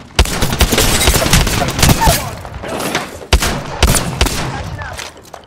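Rapid bursts of gunfire in a battle royale video game, loud and dense, with sharp shots and booming impacts crowding a chaotic firefight, while a voice speaks underneath.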